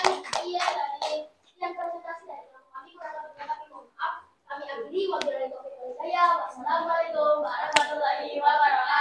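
A classroom group of children claps in applause for a student group, with rhythmic bursts of clapping mixed with children's voices throughout.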